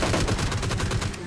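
Video game gunfire rattles in a rapid automatic burst of evenly spaced shots, loud and close, with faint game voices in the mix.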